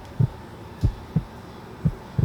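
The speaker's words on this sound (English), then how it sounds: "Yes, a heartbeat." A heartbeat thumps in low, soft double pulses, five or so beats at a steady, slightly uneven rhythm over a faint hum, with no voices.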